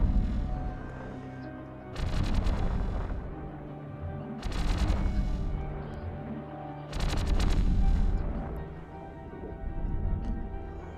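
Weapons fire in a space combat video game while shooting at a cruiser: three or four loud bursts of blasts, each lasting about a second, separated by quieter droning background.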